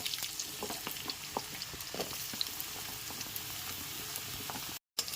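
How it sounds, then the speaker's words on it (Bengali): Cut potato and radish fry in a pan after lightly toasted whole spices, making a quiet, steady sizzle with scattered soft scrapes of stirring, close by and without voices, before a brief dropout. "আলুটা দিয়ে দেওয়ার পর এর মধ্যে মুলোটাকে দিয়ে দেব"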